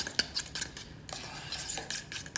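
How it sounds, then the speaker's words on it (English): A spoon stirs thick deviled egg yolk paste with mayonnaise in a bowl, giving soft, close scraping and clinking strokes at an irregular pace, quiet and alone. "I'm gonna give that another stir"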